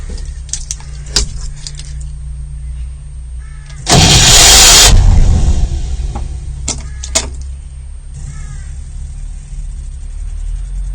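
A V8 Land Rover with starter motor trouble gives clicks and clunks from the starter, then a loud, harsh burst of about a second, followed by more scattered clicks over a low hum.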